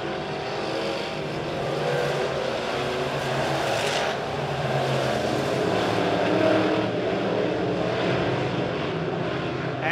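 Midwest modified race cars run down the backstretch at Springfield Raceway, a continuous roaring engine drone that swells and fades slightly as the pack moves, heard from a distance.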